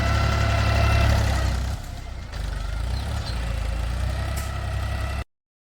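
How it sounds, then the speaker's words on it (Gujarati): A tractor engine working a farm field, a loud steady rumble close by that drops slightly midway and then runs on evenly before cutting off abruptly. "આપણું ટ્રેક્ટર કામ કરી રહ્યું છે"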